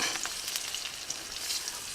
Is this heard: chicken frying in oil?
yes